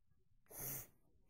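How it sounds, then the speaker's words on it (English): A single sharp sneeze bursts out once in a warm summer setting, a brief, close, breathy explosion that rises and fades within half a second against quiet room background. "Achoo. You have a sneeze."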